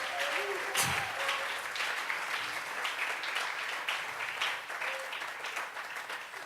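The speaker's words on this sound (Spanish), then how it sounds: "Vamos a regalarle ofrenda de palmas al Dios de la gloria" Church congregation clapping in worship, sustained dense applause with steady hand claps throughout, a few voices and brief shouts mixed in under the clapping.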